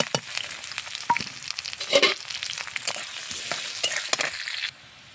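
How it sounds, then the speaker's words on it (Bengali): Chopped green chili, onion and crushed garlic frying in mustard oil: continuous crackling sizzle with frequent stirring clinks and scrapes, fairly close, cutting off abruptly near the end, no talk. "আর এই যে ঝাল পেঁয়াজ রসুন তেলে ভাজতে দিয়েছি"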